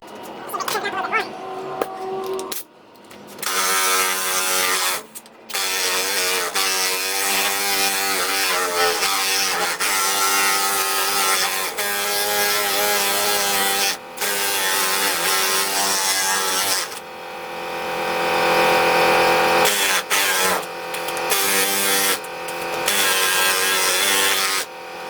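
Coarse 80-grit sandpaper on a sanding board rasps across the body panel of a 1929 Chrysler in long, loud, close strokes with brief pauses, and a voice talks over part of it.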